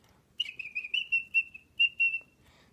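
A person whistles to a pet bird in a run of short, high, close tones of similar pitch, some clipped and some held a little longer, with no talking.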